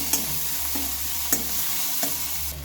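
Sugar frying in hot oil in a pan while cooking drumstick-leaf chops, a continuous soft sizzle with a few sharp scraping stirs of a spatula recurring at intervals, fairly quiet and close with no talking.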